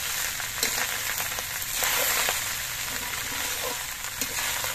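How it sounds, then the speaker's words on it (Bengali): Cooked rice frying in ghee in a pan, a dense continuous sizzle with soft scraping as it is stirred and mixed, steady and close throughout. "এবার আমি এই গামলার ভাতগুলো দিয়ে দিচ্ছি। দিয়ে নিয়ে ঘিয়ের সঙ্গে নেড়ে চেড়ে মিশিয়ে নিতে হবে।"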